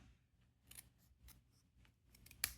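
Scissors snip through card stock, cutting a die-cut card piece in half, with a few soft close crisp cuts and a sharper final snip in a quiet room.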